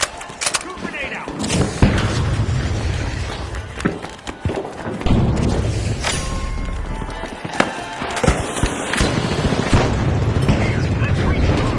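Grenade blasts go off in a video game shooter: heavy, booming bursts with rumbling low end, repeated several times over roughly twelve seconds, with voices talking throughout.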